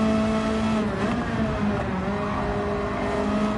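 Honda Civic race car in Gran Turismo 7 holds a steady, loud engine drone at constant revs, a continuous in-game hum that runs unbroken without speech.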